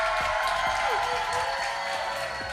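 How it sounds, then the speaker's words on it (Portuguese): An audience at a festival panel talk claps and cheers in a dense, continuous wash of applause that stays loud throughout, with some voices mixed in. "Mais alto! Mais aplausos!"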